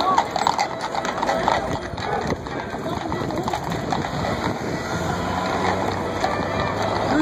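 Horse hooves clip-clop on a city street as NYPD mounted police pass through a New Year's Eve crowd, the steady clatter blending into dense crowd noise and chatter throughout.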